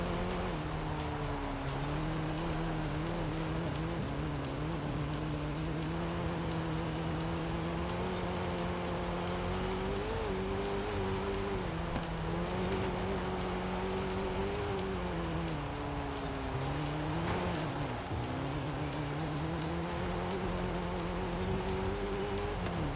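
Mercedes-Benz race car in Forza Horizon with its tail sliding out, a continuous engine drone that rises and falls steadily throughout, fairly faint and without talk.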